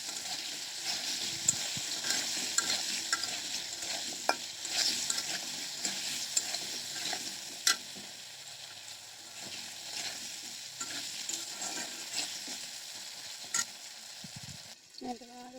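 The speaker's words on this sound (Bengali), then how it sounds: "আমি আলুটাকে সুন্দর ভেজে নেব।" Potatoes with salt and turmeric sizzle in a pan as a spatula scrapes and stirs them, a soft continuous frying hiss broken by sharp clinks and scrapes, up close with no talk.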